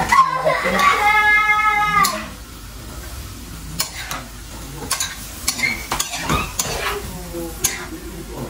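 Goat innards frying in a pan for a homemade Filipino paklay dish are stirred with scraping utensil strokes over a steady sizzle, with a voice and other talk nearby.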